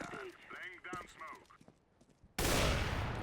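An AK rifle in a video game unleashes a sudden, loud, continuous burst of automatic fire after a stretch of casual talking by a player.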